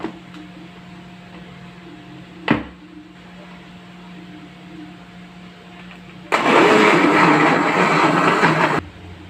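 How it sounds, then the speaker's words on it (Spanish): A blender whirs loudly for a couple of seconds, blending a passion fruit or guava yogurt mixture in a home kitchen. Before it, a steady low hum and a sharp knock. "Vamos a llevarla a licuar."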